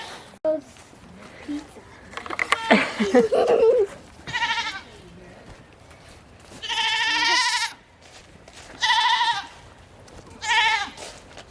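Several goats bleat loudly and close by in repeated, wavering calls, with brief bits of human voices between them.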